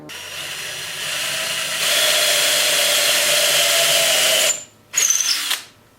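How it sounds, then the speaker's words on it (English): A power drill bores a 5/16 inch hole into a wooden bowl blank for a lathe screw chuck, a loud steady whine running about four and a half seconds, then a brief pause and a second short burst. "So I'm going to drill a 5/16 inch hole in here."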